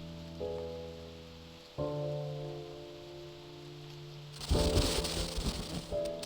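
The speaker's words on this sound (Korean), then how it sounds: "그냥 비가 내리는 것 뿐이니까 괜히 놀랄 것 없어." Rain in a video game, a steady soft hiss that swells into a louder, denser patter of drops near the end, under a sustained tonal drone.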